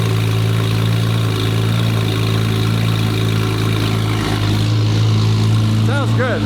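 A Nissan GT-R with a 1300 hp built engine idles steadily after a cold start, a loud, even low rumble running throughout with a brief rise near the end.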